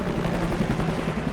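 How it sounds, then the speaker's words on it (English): A helicopter flies overhead chasing a snowmobile ride, its blades giving a steady, rapid thumping chop that holds continuously at moderate distance with no voices over it. "It's always fun riding with a helicopter chasing you. You can hear the blades, and Jay's standing on the tracks filming us"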